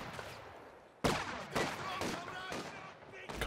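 Bursts of machine gun fire and explosions crackle in a Company of Heroes 2 Soviet-versus-German infantry battle, with several sharp, loud volleys and dense rattling following one another over roughly three seconds.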